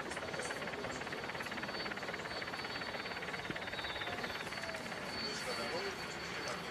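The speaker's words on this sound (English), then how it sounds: "You see that helicopter down below just waiting for them to exit one of the tunnels today" A helicopter hovers over a cycling road race in Turkey, its steady rotor and engine noise forming a continuous rough wash that fills the background throughout.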